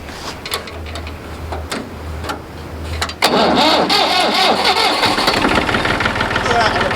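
A vintage Fordson or Ferguson tractor engine cranks and catches on a cold day, then settles into a loud, steady running rumble, with people talking nearby.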